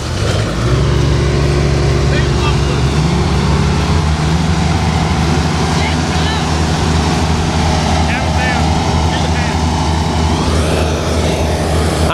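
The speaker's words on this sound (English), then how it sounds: "Gentlemen, start your engines." Racing lawn mowers start their engines and pull away at a lawn mower race, a dense, loud mechanical drone of several motors running together, with a voice talking over it.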